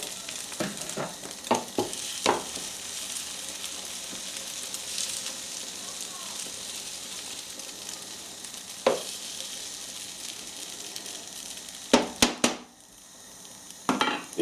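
Spanish omelette frying in a little oil in a hot non-stick pan gives a steady broad sizzle, broken by a few clinks and scrapes of a utensil against the pan.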